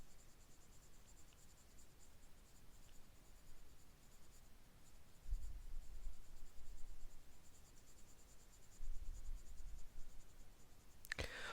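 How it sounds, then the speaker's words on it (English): Colored pencil, first yellow, shading on paper to build an arc of light down a flower in a Zentangle-style drawing. The soft, steady scratching continues for the whole stretch, close and quiet, with a few louder strokes and no voices. "So you can see how that pencil is moving just on the side of it."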